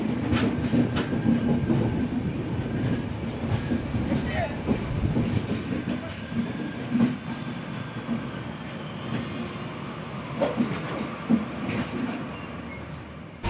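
A passenger train runs on the Miraj to Pune line with a continuous rumble and clatter of wheels on track and occasional sharper knocks, heard from inside the carriage with faint voices in the background.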